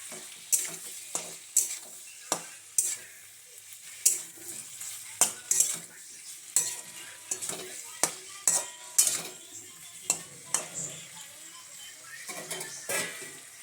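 Spiced chicken gizzard and liver stirred in a pan with a spoon: repeated sharp scraping and clinking strokes at an uneven rhythm over a soft, steady sizzle, close and fairly quiet, with no talking.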